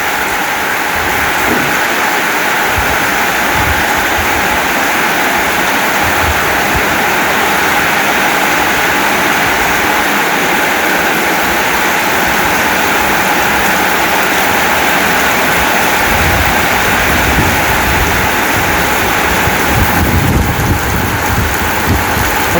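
Heavy rain pours and splashes off a roof overhang, a loud, dense, unbroken roar of water that holds steady throughout with no voices.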